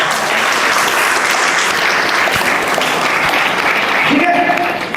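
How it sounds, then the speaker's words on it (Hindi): Loud, dense applause from a large audience at a motivational talk, steady and sustained throughout with no speech over it. "सबके लिए जोरदार तालियां।"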